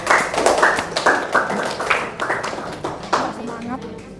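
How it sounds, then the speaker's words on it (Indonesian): Classmates clap for group 1 during a classroom math lesson, giving a short burst of irregular, fairly close claps from a small group, with voices mixed in. "boleh kasih tepuk tangan untuk kelompok 1"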